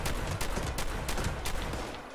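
Rapid gunfire in the online survival shooter Fallout 76 Nuclear Winter, a dense burst of repeated loud shots in quick rhythm, close and sustained for a couple of seconds before easing slightly.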